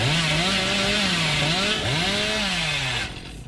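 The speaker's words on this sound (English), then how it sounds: "that was a bruh moment when that chainsaw hit the fucking log" A chainsaw in the Dead by Daylight video game revs loudly in rising and falling whines, surging twice before cutting off abruptly near the end.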